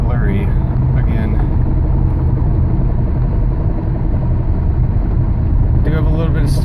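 Car engine cruising after a shift into fifth gear, a loud steady low rumble with road noise running throughout, and someone talking over it.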